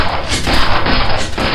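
Gunshot sound effect in a tabletop role-play session, a loud, dense booming blast with heavy low rumble that fills the short moment, swelling and echoing with a second surge near the end.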